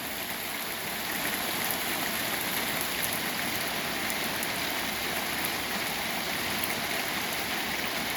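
Steady water spray hissing onto a Yamaha Virago 1100 motorcycle during a wash, an even broadband rush that starts after a brief quieter moment and runs on alone.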